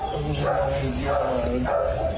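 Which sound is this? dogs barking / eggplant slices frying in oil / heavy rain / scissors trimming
dogs barking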